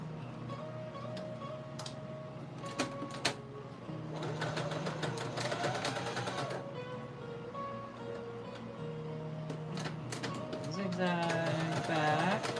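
Sewing machine running a zigzag stitch on a handmade doll, a rapid mechanical ticking in bursts that stop and start, with someone talking over it.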